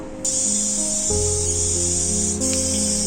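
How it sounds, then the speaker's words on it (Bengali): A pressure cooker boiling kalai dal releases steam in a loud, continuous high-pitched hiss, steady throughout with a low hum beneath and a brief dip partway. "প্রেসার কুকারে তিনটে সিটি দিয়ে ওই পাঁচ মিনিটের মতো রেখে দিয়েছিলাম"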